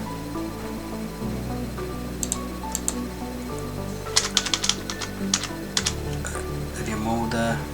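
Clicky computer keyboard typing in short bursts of keystrokes, with brief pauses between, over a steady low background hum.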